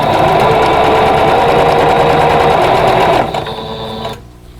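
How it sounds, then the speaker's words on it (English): Sewing machine stitching rows of a vintage Honey Bee quilt block together, a loud, close continuous whir that slows and winds down near the end before stopping. "now I'm ready to sew all 3 rows together"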